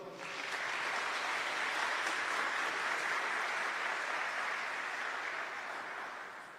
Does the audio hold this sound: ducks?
no